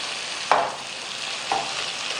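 Chopped raw tomatoes are stirred into chickpeas frying in a pan, giving two quick scraping stirs over a steady, soft sizzle, with no voices.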